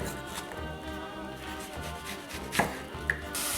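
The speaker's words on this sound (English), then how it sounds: "we're just going to chop up our onion here" An onion is chopped on a cutting board for a vegan sweet potato soup, with a few distinct knife knocks against the board over a steady low background.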